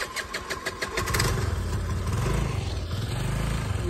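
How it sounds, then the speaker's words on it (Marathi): A car engine cranks with a quick rattling stutter, catches, and settles into a steady low idle rumble close by with no talking. "गाडी चालू झाली"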